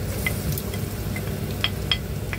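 Onion and garlic sauté in a pan with a low, steady sizzle. A few light spatula scrapes and clicks land at uneven intervals, fairly close, and no one speaks.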